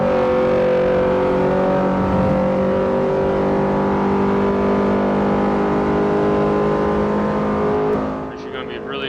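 A car engine droning at steady revs while driving in the Forza Horizon 4 racing video game, loud and continuous, easing off and fading slightly near the end.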